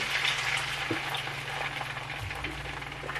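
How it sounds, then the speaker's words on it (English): Egg whites sizzle and fry steadily in a covered pan, a close, continuous crackling hiss with faint scraping. "I also like to cook my egg whites specifically, so I'll put pan over top so it heats it all thoroughly"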